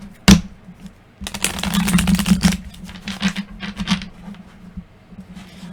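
A deck of tarot cards being shuffled by hand, giving a dense flurry of quick riffling clicks and rustles in two or three bursts. A low steady hum runs underneath and there is no talk.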